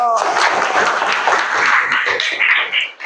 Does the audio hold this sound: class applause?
yes